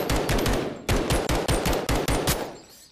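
Rapid, loud semi-automatic fire from the LM-S rifle in the VR game Bonelab: several quick bursts of sharp, punchy shots close up, with brief gaps between volleys and no talking.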